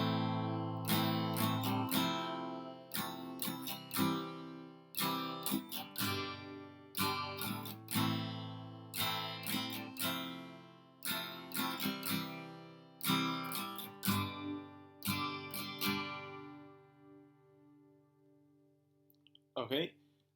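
An acoustic guitar strums chords in a steady down-and-up pattern, crisp repeated stroke bursts grouped in regular rhythmic phrases, clear and close, fading to a final ringing chord.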